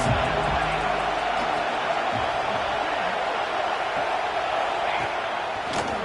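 Crowd noise at a Nebraska versus USC college football game, a broad sustained roar from the stadium stands rising behind a third-down defensive play, continuous and loud throughout.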